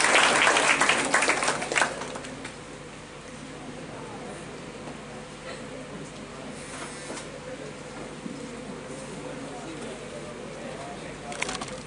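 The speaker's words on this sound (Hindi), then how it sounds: "उसके लिए तालियां बजाएंगे हम" A seated audience applauds for Rupali, a dense burst of clapping in the opening two seconds that fades into a steady murmur of room noise.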